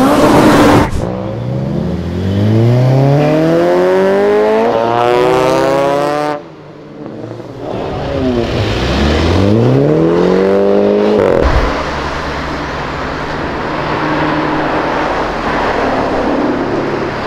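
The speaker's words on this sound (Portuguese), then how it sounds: "E acelerou e foda-se." A motorcycle accelerates hard along a road, riding the wrong way against traffic. Its engine climbs loud and close in two rising sweeps, with a short dip between them, then settles into a steady drone.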